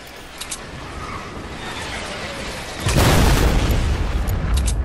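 A rocket explosion in Fortnite Battle Royale lands as a loud, low boom that bursts in partway through and then rumbles on, following quieter background game noise.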